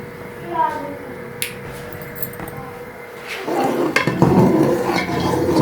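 A spoon stirs kamarkas simmering in boiling milk in a pan, with faint early clinks and then denser scraping and bubbling noise growing louder toward the end, a voice heard in the background.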